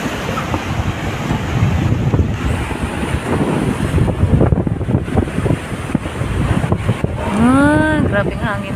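Strong, gusty wind blasting the microphone at the shore, with crashing surf underneath and a brief squealing whistle near the end.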